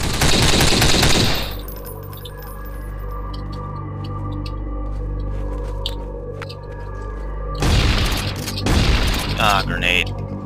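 A grenade blast and gunfire in Half-Life 2. A loud burst opens the stretch, then a quieter mechanical hum follows, and a second heavy burst of bangs hits near the end.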